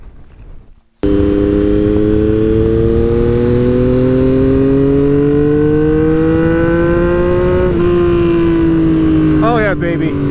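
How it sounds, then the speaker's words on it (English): A road motorcycle fitted with an SB Engineering exhaust roars loud and close. It fires up suddenly, then climbs in pitch through a sustained rev before dropping briefly and rising again. "that SB Engineering exhaust is pretty loud"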